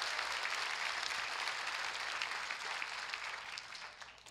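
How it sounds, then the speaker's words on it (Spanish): Loud, sustained applause fills a church service, a dense crowd clapping steadily without a break before slowly tapering off toward the end. "¿Le puedes dar un aplauso bien fuerte al Rey, por favor?"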